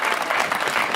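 Audience clapping at a Hindi comic poetry gathering, a brief steady burst of dense applause from a crowd.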